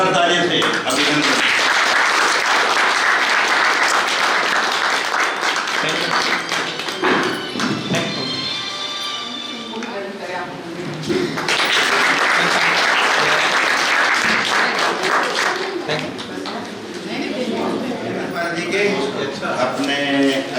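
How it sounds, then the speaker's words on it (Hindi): Loud, sustained applause from a gathered audience at an office retirement ceremony for a telephone company employee, in two long waves of dense clapping with a dip between them, with voices talking underneath. "जोरदार तालियों से अभिनंदन।"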